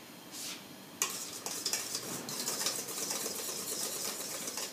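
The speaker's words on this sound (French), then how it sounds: "Remuez, et votre chantilly de rouille est prête." A spoon stirs rouille sauce in a restaurant kitchen, freshly mixed with mustard and paprika for a fish soup, with steady close scraping and swishing against the bowl and a few sharper clinks, no talk.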